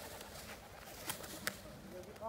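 Faint pigeon cooing comes from a loft amid steady background noise, with a couple of brief sharp clicks and a hint of a voice at the end.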